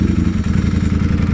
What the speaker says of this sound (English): We have that beautiful Tormignone Racing slip-on, which you could hear.